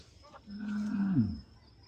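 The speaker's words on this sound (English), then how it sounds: "or they're not cows, they're bulls." Bulls lowing beside a riverside campsite: one deep, drawn-out moo lasting about a second, rising then sliding down in pitch, fairly close and clear against quiet outdoor background.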